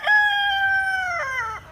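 A rooster crows once, loud and close, one long drawn-out call with a rising break near the end and no other sound around it.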